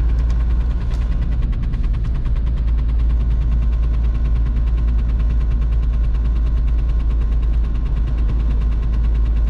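A VW Golf 3 with a 1.9 TDI 90 HP diesel runs at full throttle on a rainy drive, a loud, steady low drone with a fast, even clattering pulse throughout and no speech.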